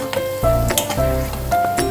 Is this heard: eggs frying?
yes